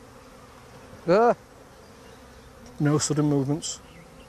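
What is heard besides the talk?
honeybees buzzing at a hive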